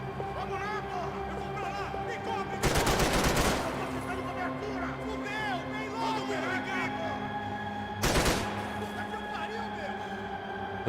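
Two short bursts of automatic gunfire from the video game Max Payne 3, about a second each and a few seconds apart, rise over constant game music and ambience while someone talks throughout.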